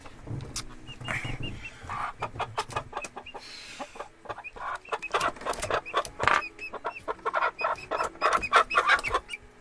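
A pet chicken clucks repeatedly up close at night, with short sharp clucks and bursts in an irregular, busy rhythm that grows more frequent toward the end.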